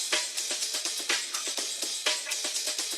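Intro loop of an electronic track, built from percussion and the main sample with no bass: bright, repeating hits in a steady rhythm, moderately loud and alone without talk.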